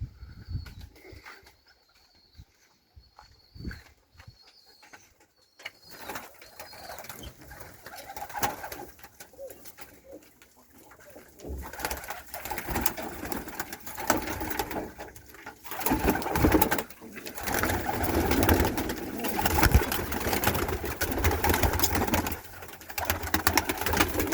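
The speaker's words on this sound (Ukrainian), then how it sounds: "голуби Миколи Миколайовича" Iranian and Pakistani high-flying pigeons coo and flutter nearby, with wingbeats and rustling building into a busy, steady flock noise.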